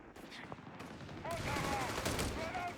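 Gunfire in the real-time strategy game Company of Heroes 3, with bursts of rifle and machine-gun fire crackling under a steady battle din, plus short game voice callouts mixed in.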